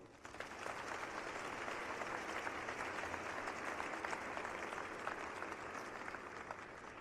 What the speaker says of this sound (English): Students, please join me in thanking your family and loved ones for their support with a round of applause.